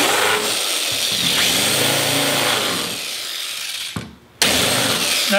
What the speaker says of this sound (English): I also have a countersink bit here that I'm going to turn it over and then countersink the other